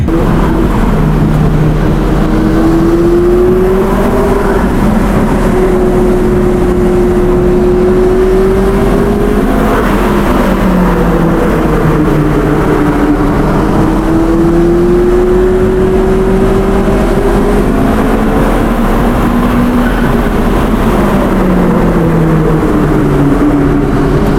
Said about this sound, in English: This is a 600 horsepower flat plane crank V8 with twin turbo.